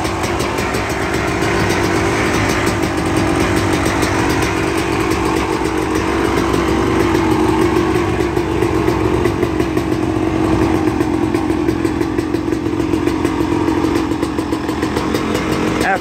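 A freshly rebuilt 2001 Honda CR250 two-stroke dirt bike with an FMF header pipe and Circuit silencer, running loud and close with a steady crackling ring and small rises in revs throughout.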